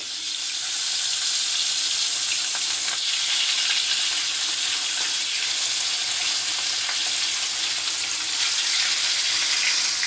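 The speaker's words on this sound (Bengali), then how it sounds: "এবার আর একটু মাছ আছে, সেটা আমি আবার ভেজে নেব।" Remaining pieces of rohu fish frying in hot oil, a steady, dense sizzle and crackle that holds loud and even throughout, with no voices.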